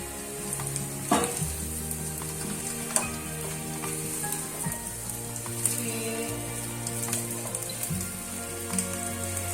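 Okra drops into a pan of sautéed onions and fries with a loud, dense sizzle and crackle, with a few clattering stirs and taps near the start, close and without speech.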